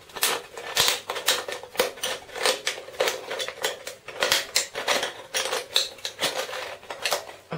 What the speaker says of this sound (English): I'm going to use the sharp point of my scissors just to make a starting point